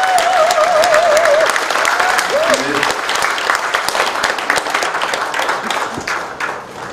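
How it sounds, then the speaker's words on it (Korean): Applause from a crowd at the opening ceremony of a county candidate's campaign office, sustained and loud throughout, with a brief tonal sound early on and the clapping fading slightly toward the end. "박수 한번 보내주십시오."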